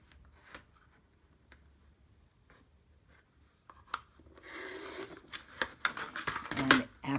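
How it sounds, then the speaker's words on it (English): Scissors cut through sewn quilt fabric along a marked line, a few faint snips at first and then a denser run of louder crisp cuts and rustling cloth close by. "Now that I've sewed on both sides of it, I can cut."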